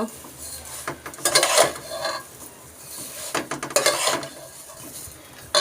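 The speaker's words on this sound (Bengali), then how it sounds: "এটা আমি ভালো করে নেড়ে চেড়ে নিব কিছুক্ষণে ঘিয়ের ভিতরে ভেজে নেব" Semai vermicelli being stirred and fried in ghee in a pan gives bursts of metal utensil scraping and clinking against the pan, with a faint sizzle between the bursts and no talk.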